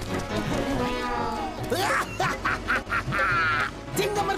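A cartoon duck quacks in a rapid series of nasal calls, mixed with animated character voices and background music.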